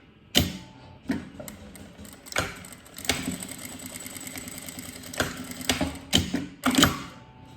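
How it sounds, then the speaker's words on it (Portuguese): A sewing machine on a tight stitch setting, sewing a seam on a fabric case for chocolate bars and a phone, running in several short whirring bursts separated by pauses and clicks, close and without talk. "Vou colocar aqui o ponto 2. E vou fazer a costura."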